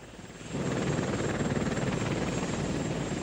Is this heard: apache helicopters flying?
yes